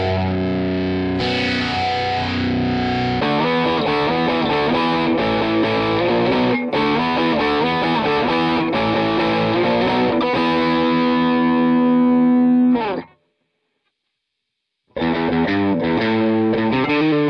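Distorted electric guitar played through factory patches on a Zoom G2 Four multi-effects pedal, dense chords and riffs with heavy drive, loud and continuous, a brief silence near the end before playing resumes.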